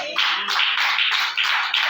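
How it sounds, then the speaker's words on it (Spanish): A church congregation applauds in a bright, dense wash of clapping that swells and dips in regular pulses, with no talk over it. "¿Será que Él se merece un aplauso con toda el alma?"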